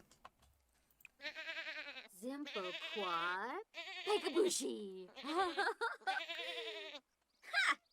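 Several goats bleat in long, wavering, nasal cries, close and loud, one after another with brief gaps, including a rising drawn-out call.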